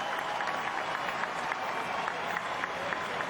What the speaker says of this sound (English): And there you hear more of the reaction as the crowd gets their eyes upon George